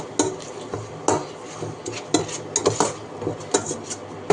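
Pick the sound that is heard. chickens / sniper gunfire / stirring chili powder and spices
stirring chili powder and spices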